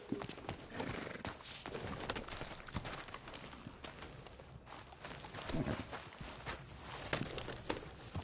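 Horse hooves clip-clop at a steady riding pace in the Red Dead Redemption video game, a continuous rhythmic patter of close footfalls with an occasional snort or whinny over low background ambience.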